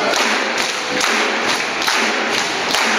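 Group of children at an intermediate school performing a body-percussion drum beat, with a steady, repeating pattern of loud, close thumps and slaps from many hands over a dense wash of crowd noise.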